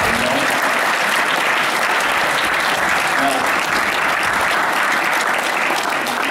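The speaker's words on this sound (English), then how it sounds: "Let's give them a clap" Church congregation applauding together after a prayer, a dense, steady wash of many hands clapping at close range that holds evenly throughout.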